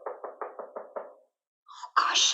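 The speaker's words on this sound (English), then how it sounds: "Ma'am, please knock." Six quick, evenly spaced knocks on a wall, close and fairly loud, followed after a short pause by a person speaking, during an improv comedy show.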